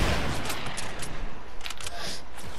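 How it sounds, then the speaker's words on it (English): Rockets fire in a Fortnite match, a dense volley of harsh, booming blasts and explosions that keeps up loudly for the whole short stretch. "How am I missing these rockets?"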